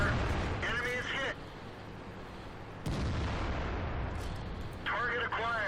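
Tank cannon fire in the World of Tanks video game: heavy booming shots at the start and again near the three-second mark, with rumbling battle noise in between and short synthetic voice callouts.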